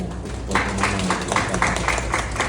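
An audience in a Thai church gathering claps for Supot, a dense, steady patter of many hands at moderate distance that continues throughout.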